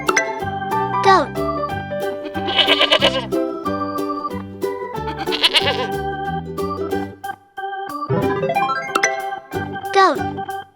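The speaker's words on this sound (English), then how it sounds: "Goat." Repeated goat bleats from a farm animal lesson for kids, wobbly and bright, sounding in bursts over a cheerful looping music bed that briefly dips before returning.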